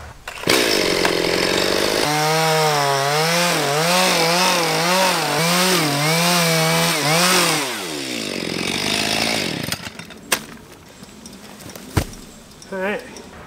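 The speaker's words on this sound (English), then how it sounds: "Can a chainsaw cut down a palm tree?" Chainsaw cutting down a dead palm tree, loud and close: the motor idles, then revs hard in a wavering, labouring whine while biting through the trunk before winding down, followed by a few sharp knocks and thuds, with voices nearby.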